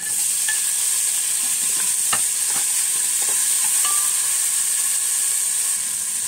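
Garlic and then tomatoes sauté in a pan for a home-cooked mung bean stew, giving a steady close sizzle and hiss with occasional light clicks and scrapes from stirring, no voices.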